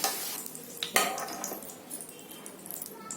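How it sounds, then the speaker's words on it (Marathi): Garam masala and cumin frying in a little oil in a pan, a light sizzle with a few clinks and scrapes of a spoon, close but fairly quiet, no talk. "आता हे काढते आणि याच्यामध्ये मसाला फ्राय करते"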